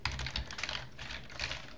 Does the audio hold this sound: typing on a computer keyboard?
yes